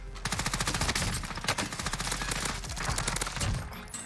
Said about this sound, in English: switch to my PPSH SMG